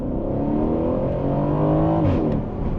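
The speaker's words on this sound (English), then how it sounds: "It's fast, it's responsive, and that exhaust note is pure theatre." An Aston Martin supercar engine revs hard, its exhaust note climbing steadily in pitch with rich layered harmonics, loud and close, before a quick shift and a fresh rise in revs.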